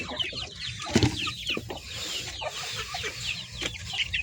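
Several native chickens cluck and chatter close by, with soft overlapping calls and a faint peep of chicks in a busy farmyard.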